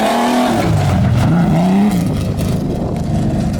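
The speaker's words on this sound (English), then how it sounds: "He's just driving the Explorer off of a flatbed trailer." A Ford Explorer is driven off a flatbed trailer, its engine revving loud and near with a rising and falling pitch, then settling into a steady rumble with no talk.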